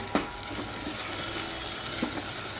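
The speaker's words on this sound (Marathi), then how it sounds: "लसूण, खोबरं, आलं एकत्र दळून ठेवलं ते टाकते." Ground garlic, coconut and ginger paste hits a hot pan, giving a continuous soft sizzle with a couple of faint stirring knocks, moderately close and without talk.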